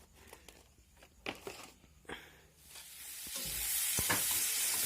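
Fish frying in a pan for a home evening meal, a soft steady sizzle building and spreading, with a few sharp clinks and stirring knocks early on before the hiss grows louder and fills the rest.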